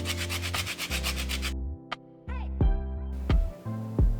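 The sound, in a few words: zesting a lemon over tuna salad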